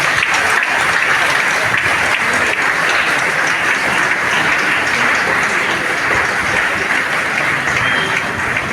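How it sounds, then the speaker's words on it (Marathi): Loud, sustained applause from an audience fills the hall at a church welcome ceremony for a statue of St Francis of Assisi attended by a bishop, a dense, even clapping that never lets up. "पण सर्वांनी जोरदार टाळ्या मारायच्या आहेत."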